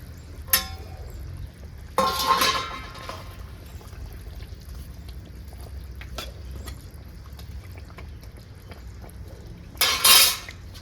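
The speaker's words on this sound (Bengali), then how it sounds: "ভেজে রাখা মাছ দিয়ে দেবো।" Fried rohu fish pieces go into a pot of simmering potato and raw mango curry, with a few sharp clinks of a utensil against the pot over a low bubbling background, close and without talk.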